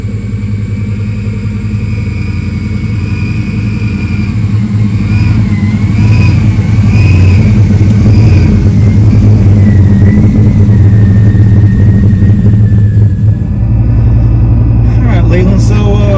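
A lifted 2003 2500HD pickup truck's engine rumbles loudly nearby, revving up and settling as the truck pulls away, with people talking over the engine.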